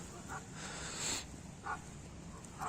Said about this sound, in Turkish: Köpekler de uzaklardan köpek sesleri geliyor.